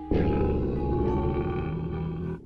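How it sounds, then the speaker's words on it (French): A lion roars on a wildlife program playing on a TV, one deep sustained roar lasting a couple of seconds, loud and close, with no one talking over it. "Ne me dites pas que vous avez un lion à la maison."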